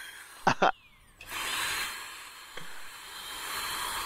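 Whining dentist's drill in an Oculus Rift VR game, two short sharp bursts early on, then a steady high whir that persists faintly to the end, with a brief soft knock midway.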